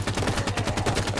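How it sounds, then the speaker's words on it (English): Rapid gunfire in a Halo 5 Warzone Firefight match, with an enemy Elite shooting: a steady, evenly spaced burst of about a dozen close, loud shots across a second, with no talking. "Enemy elite fires on you"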